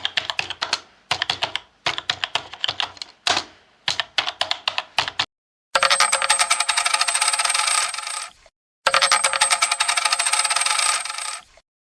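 Rapid keyboard typing gives way to two long bursts of coins dropping and clattering, loud and close, separated by a short pause.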